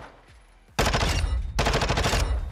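A submachine gun in Modern Warfare 2 fires two loud, close, rapid bursts after a quiet start, each a dense rattle lasting under a second.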